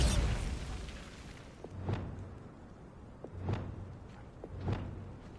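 Bombarda spell explosions in Hogwarts Legacy go off with a loud initial blast, followed by three more spaced, muffled thuds with short crackling bursts.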